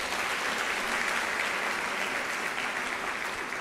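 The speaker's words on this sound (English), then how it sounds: "Give yourself a round of applause." Graduates applauding at a university graduation ceremony, a dense, even wash of clapping from a large crowd that holds steady from start to finish.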